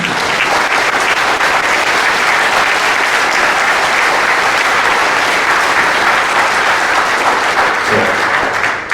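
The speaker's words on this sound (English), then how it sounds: "let's give a great hand of applause to Roy Want" A large conference audience applauds Roy Want at an award ceremony, a loud, dense wash of clapping that stays steady and continuous throughout, with no voices over it.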